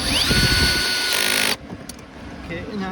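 A loud power drill driving screws during a 2020 Honda Pilot engine start/stop switch replacement whirs steadily, then stops abruptly, leaving quieter background noise.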